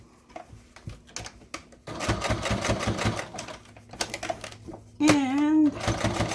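Sewing machine running in bursts, its fast needle chatter starting and stopping up close, while someone talks between and over the stitching.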